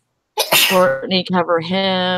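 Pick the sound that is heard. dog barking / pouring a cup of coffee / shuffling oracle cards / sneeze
sneeze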